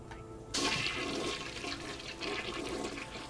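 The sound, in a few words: toilet flushing in the video game Deus Ex: Mankind Divided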